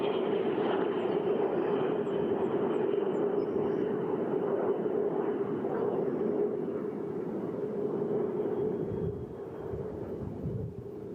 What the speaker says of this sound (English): These beautifully restored aircraft, the L-39s, again, the T-33 out front.